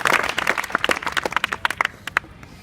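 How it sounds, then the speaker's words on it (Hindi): Students in a college classroom give a brief round of clapping, a flurry of sharp claps that thins out into a few scattered final claps. "वेरी गुड, ताली बजाओ इनके लिए"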